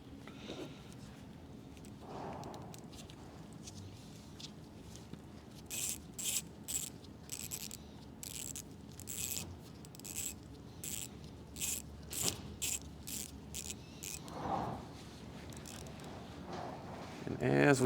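Ratchet wrench clicking in short bursts while tightening a camshaft adjuster bolt on a Mercedes M156 AMG V8, the pawl ticking repeatedly at close range over a quiet background with faint talk.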